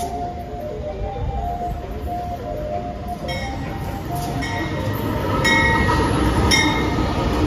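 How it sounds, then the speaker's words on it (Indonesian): A KA Logawa passenger train arriving at Probolinggo station rumbles steadily and close by, with a continuous low roar, rising metallic ringing and brief squeals that grow louder toward the end. "ini dia untuk kereta api Logawa persiapan masuk stasiun Probolinggo"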